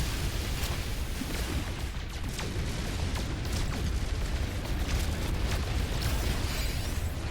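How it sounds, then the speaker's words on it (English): Asteroids blown apart by mining in No Man's Sky survival mode, giving a steady roar of rumbling blasts and crackling pops that runs loud and unbroken throughout. "Just go and blow up space rocks all day for money."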